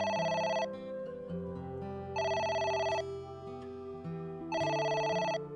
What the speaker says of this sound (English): Oh? It's the phone. Maybe try picking it up?